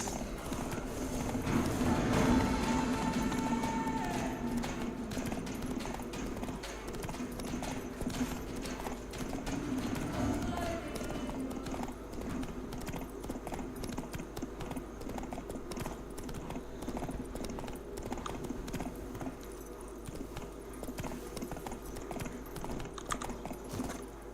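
Roach the horse gallops in The Witcher 3, a steady rhythmic clip-clop of hooves running for a long stretch at moderate volume, with a faint occasional snort and a low ambient bed beneath.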